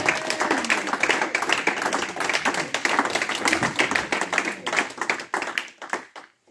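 A church congregation at a prayer vigil claps and applauds continuously for the Lord, a steady dense patter of many hands that fades out at the end.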